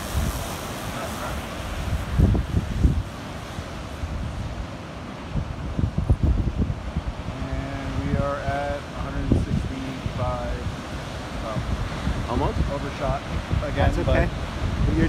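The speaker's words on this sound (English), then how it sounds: "Dealing with a little bit of wind" Gusty wind on Nauset Beach buffets the microphone throughout, with surf and people talking under it.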